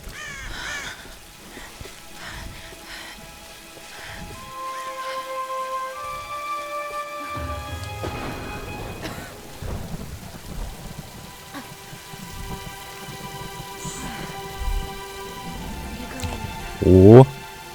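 Steady rain pours in the 2013 Tomb Raider video game, a constant hiss of drops spattering on surfaces. Crows caw and a soft musical score plays over it, with a louder burst of noise near the end.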